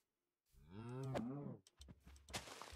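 A cow in the video game Minecraft gives one drawn-out, close moo that rises and then falls, followed by some short scuffling sounds.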